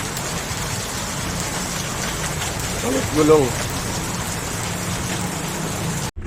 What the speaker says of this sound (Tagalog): Nakabot pa ng ulan, no?